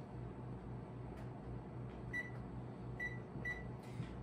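An oven's control panel beeps three times while being set to self-clean, short clear tones spaced about a second apart over a steady low hum.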